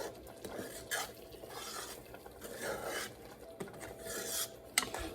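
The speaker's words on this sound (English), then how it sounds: "we're going to keep letting these saute" Italian sausage and noodles sauteing in a skillet, with soft sizzle under repeated scraping and stirring of a utensil against the pan, close and fairly quiet.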